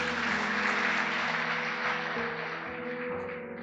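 A church youth-service congregation applauds for God, a steady wash of many hands clapping together over sustained music, holding fairly even and fading slightly toward the end.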